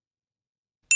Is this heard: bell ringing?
yes